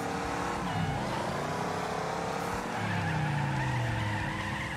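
A car braking and skidding in the Wreckfest demolition derby video game, tires squealing in long sliding tones over engine noise, one skid fading and a second rising near the end.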